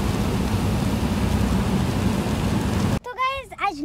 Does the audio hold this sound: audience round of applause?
no